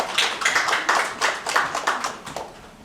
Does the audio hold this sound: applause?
yes